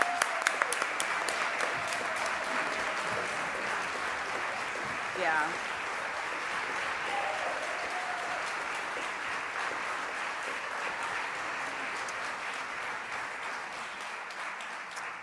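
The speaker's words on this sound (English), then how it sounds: "we'll give them another round of applause." An audience applauds teachers standing in place among them. Sharp individual claps at the start give way to a long, steady wash of clapping, with faint voices and a brief exclamation mixed in.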